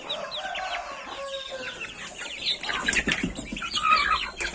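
Domestic chickens in a poultry yard clucking and calling close by, a busy overlapping chorus of short squawks and drawn-out cackles that grows denser toward the end, with no talking.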